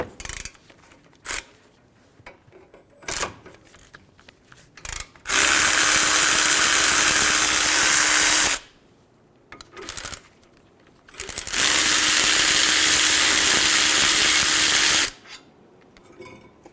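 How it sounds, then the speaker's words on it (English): A ratchet with a 17mm socket spins off caliper bracket bolts on a 2003-2008 Honda Pilot front brake, heard as two long, loud bursts of dense clicking separated by pauses and a few short clicks. "Using a 17mm socket, remove the caliper bracket bolts."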